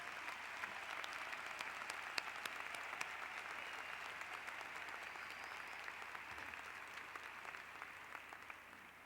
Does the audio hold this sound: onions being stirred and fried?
no